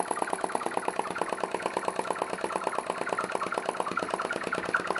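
A small vacuum, or atmospheric, engine runs at about 550 rpm, putting out a fast, even train of close, crisp mechanical beats with a faint background hum.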